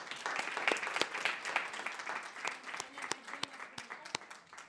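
An audience applauds a conference panel on women's participation at the close of the session, a dense, steady patter of many hands with a few sharper claps standing out, moderately loud and continuous throughout.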